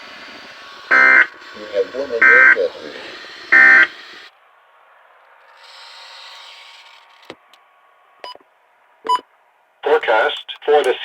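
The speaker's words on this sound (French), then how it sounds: "Ce message est destiné à tester les fonctions d'activation d'alarme et d'affichage des nouveaux récepteurs Radio" Weekly test alarm tone from a Weather Radio Canada broadcast: a few loud, steady electronic beeps in a row, followed by a synthesized voice speaking and scattered short clicks and tones.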